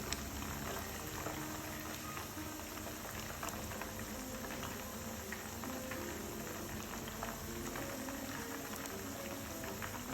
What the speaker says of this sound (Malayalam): ഇതൊക്കെ ഒന്ന് ഫ്രൈ ചെയ്തെടുക്കട്ടെ.